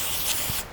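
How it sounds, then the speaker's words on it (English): Carbon cleaner is sprayed onto a semi-automatic pistol slide as one short, close hiss from an aerosol can that stops abruptly. "take our carbon cleaner. And this is pretty messy, so again, never spray it in the direction of yourself"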